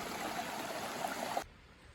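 Water flows steadily at Chatfield Memorial Shelter on the Appalachian Trail, a close, hissing stream that runs evenly and then cuts off abruptly to quiet near the end, with no talk.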